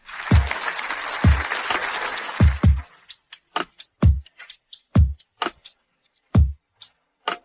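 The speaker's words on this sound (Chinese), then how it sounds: "大家鼓掌欢迎。" Audience applause at a corporate awards announcement, a dense burst of clapping for about three seconds that thins into scattered individual claps and then stops.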